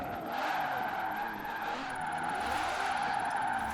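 Car drifting in Forza Horizon 4, its tires squealing in a steady, sustained screech over engine drone, loud and continuous with a brief burst at the end.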